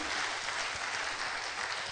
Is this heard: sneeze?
no